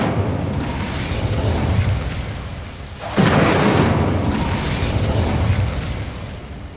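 The Incendio fire spell is cast in the Hogwarts Legacy video game: a loud fiery burst erupts midway over a continuous rumbling game soundscape, with no speech.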